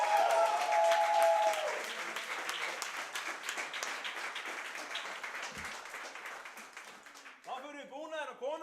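Applause from the audience at an Icelandic deadlift championship award ceremony, a loud sustained wash of clapping that gradually thins, with voices talking over it near the end.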